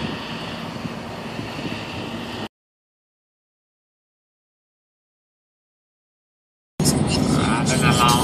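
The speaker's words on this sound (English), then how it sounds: "Driving along on the highway." A car drives steadily along a highway with broad road and wind rumble, interrupted by a stretch of complete silence before the same continuous drive noise returns.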